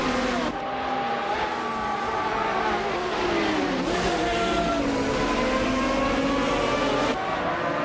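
Race cars in a racing video game roar continuously, loud and close, with rising and falling engine pitch as they shift and battle for position, plus brief tire squeal, with no talking.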